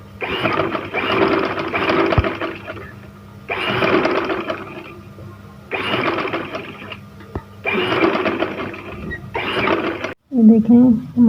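A sewing machine stitches a trouser hem through two layers of fabric at once, running in five loud bursts of rapid whirring separated by short pauses, with a brief voice at the end.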